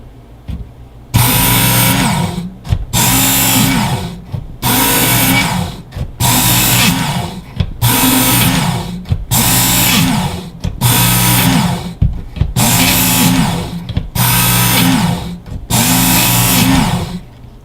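A Work Sharp electric knife sharpener grinds a knife blade in about nine steady pulls, each a loud buzzing whir of roughly a second with short gaps between, close and alone with no talk.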